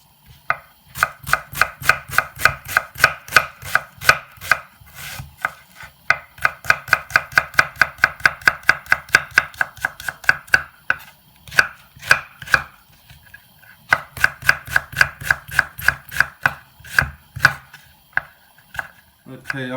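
Rapid rhythmic chopping of onions with a knife on a cutting board, close and crisp, running in long steady bursts with brief pauses between them, no talking.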